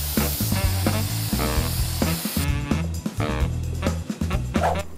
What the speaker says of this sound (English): got my red spray paint,